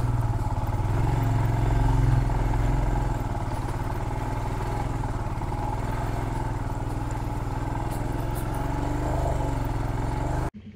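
A motorcycle rides along an off-road track through a pine forest, its mid-pitched engine droning steadily and close with some rattling clatter, cutting off abruptly at the end.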